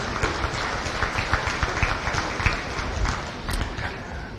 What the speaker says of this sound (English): go ahead and give them a nice round of applause if you would